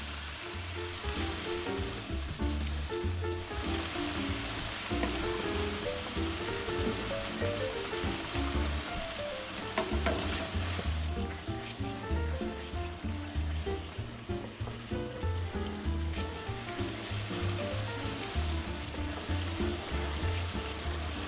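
Risotto simmers and sizzles in a pan as hot stock is absorbed and the rice is stirred in a figure-of-eight, giving a steady, continuous bubbling hiss close by with no talking.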